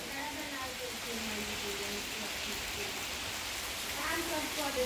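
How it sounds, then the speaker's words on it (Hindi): Steady rain falls in a village on a cold day, making a constant hiss of drops on surfaces that swells slightly near the end, with faint voices underneath. "और मेरे गाँव में हो रहा है बारिश"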